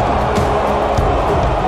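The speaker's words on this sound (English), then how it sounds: "And listen to this crowd." A video game wrestling arena crowd in WWE 2K22 roars in a steady, dense wash of cheering that fills the short stretch at full level, with no speech.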